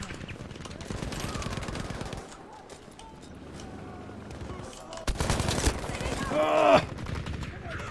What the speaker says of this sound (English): That Lewis gun is wrecking us.